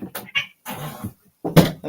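Cats playing and meowing indoors, several short close meows and chirps in quick bursts with pauses between.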